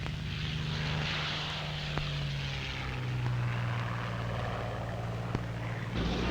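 Steady droning roar of World War II propeller aircraft engines with a low humming pitch that shifts slightly, loud and continuous with no voices.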